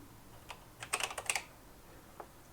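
A short burst of typing on a BBC Micro Model B keyboard, a quick cluster of crisp clicky keystrokes with a lone key press after a pause, in a quiet room.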